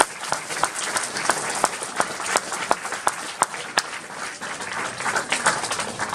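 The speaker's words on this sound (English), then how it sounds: "Round of applause for..." Applause from an audience at a local history talk in Tumut, a moderate patter of many hands with distinct sharp individual claps punctuating the wash, steady throughout and somewhat distant.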